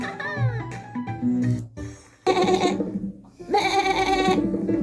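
A voice imitating a sheep, with a few drawn-out, wavering bleats and short pauses between them, close and fairly loud indoors at home.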